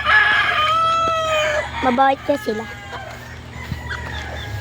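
Chickens cluck close by in a farmyard at feeding time, with a harsh crowing burst near the start and scattered short calls after, while a person talks over them.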